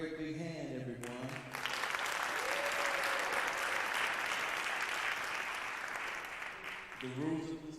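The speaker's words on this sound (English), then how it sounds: "Please give them another great big hand, everyone." An audience at a Martin Luther King oratorical contest breaks into loud, sustained applause that carries steadily for several seconds, with brief talk at the start and end.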